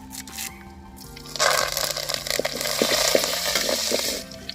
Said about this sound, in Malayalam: കടുകിൻ്റെ ഒപ്പം ഒന്ന് നന്നായിട്ട് ഇളക്കി മറിക്കാൻ നോക്കുക.